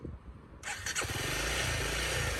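A Honda CRF300L Rally motorcycle engine catches and starts abruptly after a short quiet lead-in, then settles into a loud, steady, close-up idle with a rough burbling pulse.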